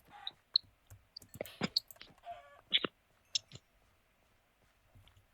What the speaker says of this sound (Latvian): Te ir pelēkas vistas.